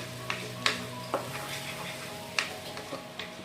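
Tomato, cashew and poppy seed paste stirred into potatoes and cauliflower frying in oil, with a steady sizzle under scattered scraping spoon strokes against the pan.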